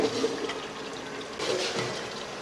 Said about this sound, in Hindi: इस मौके पे हम पानी डाल रहे हैं।